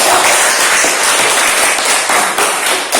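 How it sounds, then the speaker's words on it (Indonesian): Students in a classroom clap together, a loud, close burst of dense applause that holds steady for about three seconds with no talking. "tepuk tangan lagi"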